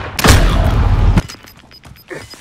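A single loud, close sniper rifle shot in the game Modern Warfare booms out and rings for about a second before cutting off. Faint clicks and small game noises follow.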